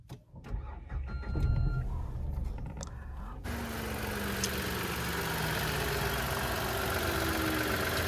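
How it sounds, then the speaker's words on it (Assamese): A Nissan Magnite's petrol engine is started by push button: quiet clicks and interior sounds come first, then the starter cranks and the engine catches into a steady idle. "মই এবাৰ ইঞ্জিনটো ষ্টাৰ্ট কৰি শুনাই দি আছোঁ আপোনালোকক।"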